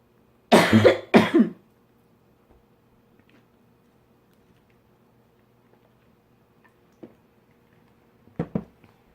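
A woman coughs twice in quick succession close to the mic, followed by long near-silence, a few faint ticks and another pair of short, quieter coughing sounds near the end.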